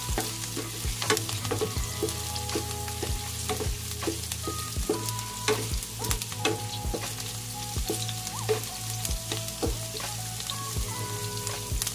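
Squid for adobong pusit stir-fries in a hot pan, loud continuous sizzling with frequent scraping and clacks of a spatula throughout, no voices.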